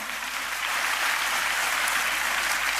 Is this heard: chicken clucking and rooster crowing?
no